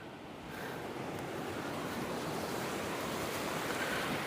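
Steady wind rushes across an open Highland wild camp in Glen Etive, Scotland, a continuous broadband roar that builds within the first half second and then holds loud and even, with no voices.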